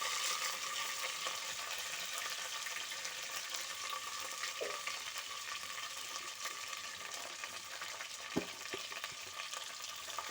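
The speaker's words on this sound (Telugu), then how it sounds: "తర్వాత అన్నీ ఉల్లిపాయ పచ్చిమిరపకాయలు వేయాలి." Chopped onions and green chillies frying in a pan for plain biryani, a soft, even sizzle with occasional stirring clatter, fairly quiet and with no speech.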